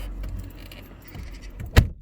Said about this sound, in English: shut the door, lock the car.